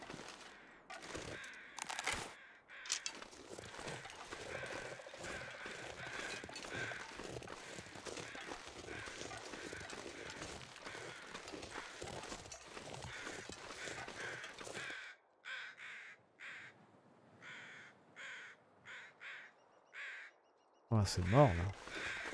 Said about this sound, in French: on va essayer de capturer les oiseaux